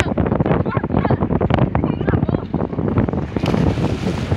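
Sea waves breaking at a beach, a loud continuous wash of surf and wind buffeting the microphone, with people talking over it throughout.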